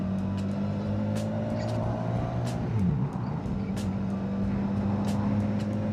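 A motorcycle on the road accelerates and climbs through the gears, its engine tone rising steadily, dipping at a gear change midway, then rising again. Loud and close, with wind rush and no talk.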